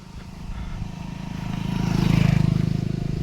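A motorcycle engine idles and then swells in a low, pulsing rumble as the bike is brought closer along a rural plot beside an old mango orchard, the sound growing louder toward the end.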